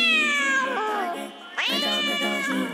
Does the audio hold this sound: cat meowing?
yes